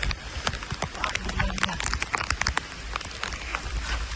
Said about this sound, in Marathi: पूर्ण असा पाऊस पडून राहिला आहे बघा